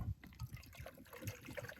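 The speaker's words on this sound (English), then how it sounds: "all you do is you pour your water up to that line" Water being poured into a small butane-heated device up to an inside fill line, a soft uneven trickle and splash with low gurgling bursts, close and fairly quiet, with no talking.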